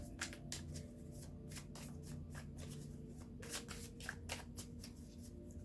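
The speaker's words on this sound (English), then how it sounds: "Okay, let's do 3 shuffles." Tarot cards are shuffled in quick, crisp riffling bursts, repeated steadily over a low background hum, close and clear with no talking.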